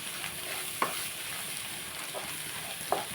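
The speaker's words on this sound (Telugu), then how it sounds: "కొంచెం ఇది వేగిన తర్వాత" Food sizzling steadily in a hot pan, a constant hiss with a couple of sharp clinks from stirring, close up and with no talking.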